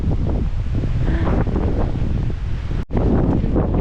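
Strong wind buffets the microphone on the rocky Irish coast of a national park, with waves and surf rushing underneath; the sound is loud and continuous apart from one brief dropout.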